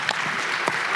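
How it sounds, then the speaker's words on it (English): Applause from a tech Q&A audience, a brief burst of dense, continuous clapping, fairly loud and close. "Let's applaud for that."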